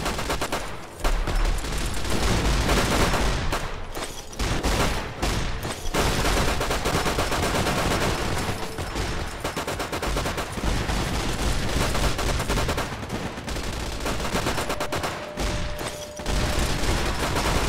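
Dense gunfire from the video game Fallout 3 rattles almost nonstop, with rapid bursts and heavy shots overlapping in a loud, chaotic firefight.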